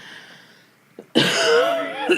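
A single short cough, then a harsh, raspy throat-clearing sound close to the microphone.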